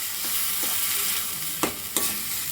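Chopped onions sauté in a pan for a thick Tamil-style chutney, giving a steady soft sizzle with a couple of brief louder stirring scrapes near the end, no talk.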